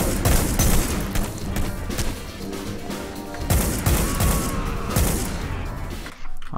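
Gunfire aimed at the player in Hitman: Blood Money: a dense, continuous stretch of rapid shots and booming bursts, loud and close, running almost the whole time before cutting out abruptly near the end.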